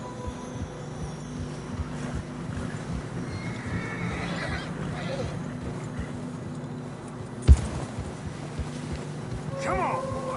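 A horse in the video game Red Dead Redemption 2 whinnies over the steady clop of hooves on a snowy trail. A single sharp thud lands midway, and people talk over the scene.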